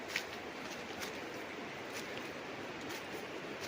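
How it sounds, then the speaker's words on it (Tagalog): Babbling river water flowing beside a farm in Majayjay, Laguna, a broad steady rushing wash heard from a slight distance, continuous and even, with no voices. "Sarap pakinggan ng lagaslas ng tubig"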